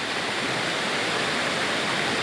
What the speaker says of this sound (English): Another nice waterfall, folks.